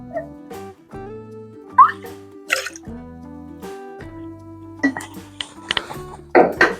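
Tangerine liqueur poured into a measuring jigger for a cocktail, a few short drips and splashes heard under a louder music bed.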